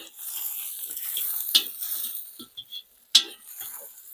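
Mushrooms frying in butter in a kazan, a soft hissing sizzle with a couple of sharp metallic clinks and scrapes from stirring, close by.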